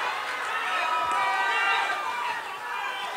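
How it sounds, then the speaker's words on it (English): Boxing arena crowd during a Andres Diaz vs Javior Rivera fight, a steady dense roar of cheering and chatter that swells slightly in the middle and holds loud throughout, with no clear single voice standing out. "As you hear the crowd now cheering on Diaz"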